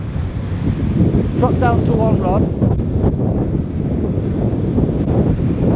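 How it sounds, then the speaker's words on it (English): Strong wind buffets the microphone on an open beach at Fleetwood, with surf in the background and someone speaking briefly over it. "bit windy."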